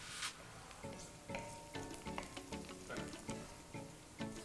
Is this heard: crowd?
no